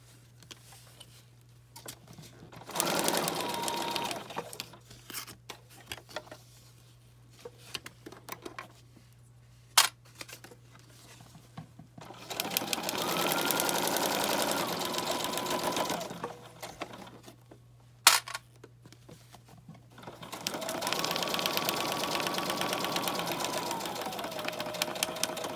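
Sewing machine stitching together the covers of an accordion journal, three separate bursts of fast steady whirring and needle chatter, close and clear, with quiet handling clicks between them.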